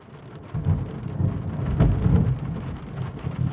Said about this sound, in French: le bruit provoqué par la danse des gouttes de pluie contre la fenêtre